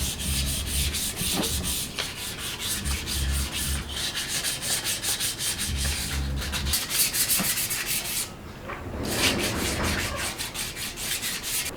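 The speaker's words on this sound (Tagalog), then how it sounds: "kaya wet sanding naman. Gagamitan lang natin siya ng tubig na may sabon at liha." Steady wet rubbing of sandpaper with soapy water over a motorcycle part, repeated back-and-forth strokes with a rhythmic swishing, close and continuous with a brief pause near the end.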